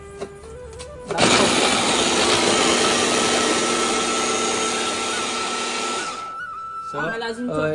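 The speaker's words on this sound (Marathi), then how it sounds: "पावभाजी बनवायला इथे यूज करतात अगारोचा ब्लेंडर प्लस चॉपर" An Agaro blender-plus-chopper runs at home, starting abruptly after a second of background voices, then a loud steady whirring motor for about five seconds before cutting off, with faint talk around it.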